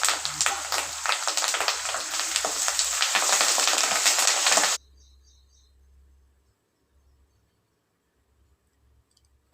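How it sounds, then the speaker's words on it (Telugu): Fresh curry leaves hit hot oil in a tempering for gongura pachadi, a loud, close crackling sizzle with sharp pops that runs for about five seconds, then cuts off into near silence. "కరివేపాకు ఇందులో వేసుకొని మంచిగా అది కూడా బాగా ఫ్రై చేసుకోవాలి"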